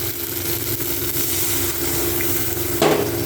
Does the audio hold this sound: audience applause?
no